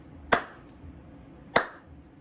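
Two sharp, isolated hand claps about a second apart, crisp and close in a quiet indoor room.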